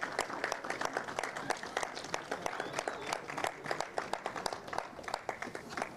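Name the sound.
applause for karting podium finisher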